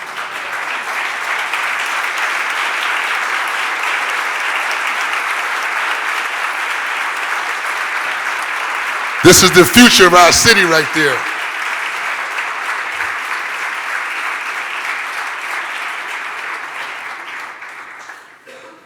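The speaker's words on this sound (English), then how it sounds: "I want everyone to stand up and give them a real big round of applause" Standing ovation at a Philadelphia City Council stated meeting, loud continuous applause from the chamber that holds steady and fades out gradually, with a brief spoken remark over it partway through.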